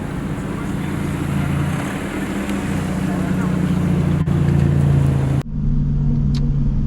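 A BMW M4 GTS engine drones low and steady from inside the car on the road, swelling slightly in strength before cutting off abruptly near the end, leaving a quieter hum.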